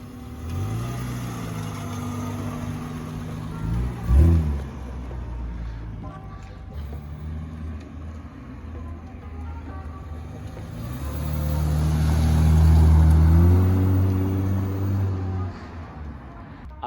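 A lowered Honda Accord CG6 on newly fitted coilovers pulls away and drives, its engine rising in pitch through gears with a louder, fuller surge of acceleration partway through, heard close from inside the car.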